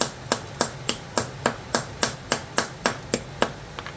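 Steady, sharp taps on wood, about fourteen evenly spaced strikes, each a crisp knock marking a drilling spot on a kitchen drawer, close and clear with no voices.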